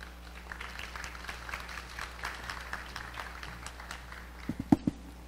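Light, scattered applause from an audience at a border health preparedness anniversary ceremony, following the invocation by a chaplain; faint and spread thin throughout, with a few heavier thumps near the end.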